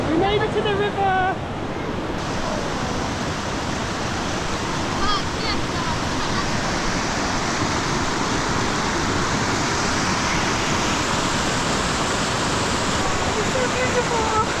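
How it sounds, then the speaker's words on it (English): River water rushing through a valley in Ladakh, India, a loud continuous roar that stays steady throughout, with someone briefly speaking over it near the start. "We made it to the river!"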